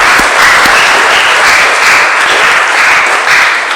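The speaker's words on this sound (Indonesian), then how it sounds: "sekali lagi mari kita tepuk tangan" Congregation applauding during a Sunday church service, a dense, loud, continuous wash of clapping from many hands filling the whole stretch, with no talking over it.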